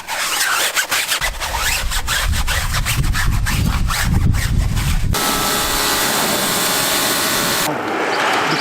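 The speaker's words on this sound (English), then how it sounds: "Take some super clean, spray the surface of the tire rubber, hard bristle brush." A hard bristle brush scrubs the cleaner-sprayed rubber of a tire on a 1978 Ford Fairmont, loud rapid back-and-forth strokes for about five seconds before a steady wash of spray or running noise takes over.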